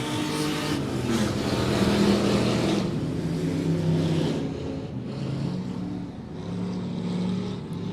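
Race cars circle the Monett Motor Speedway oval on the first lap under green, a dense continuous engine roar that swells and fades slightly as the pack passes, loud and sustained without pause.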